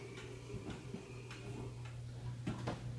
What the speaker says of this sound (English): here's a magnificent Black Forest Hunter Cuckoo clock